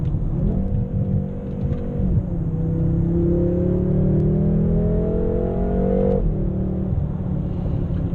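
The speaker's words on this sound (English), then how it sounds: "So the launch control works really well." A 2017 BMW M6 Gran Coupe Competition launches hard using launch control, its engine revving up through steady rising pitch, briefly dropping at a gear change, then climbing again, heard loudly from inside the cabin.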